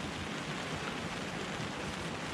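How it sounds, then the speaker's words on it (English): Heavy rain drumming on a tent during wild camping on the coast at Fairlight Glen, Hastings, a dense, steady hiss heard from inside, with no talk. "It's raining quite heavy outside at the minute."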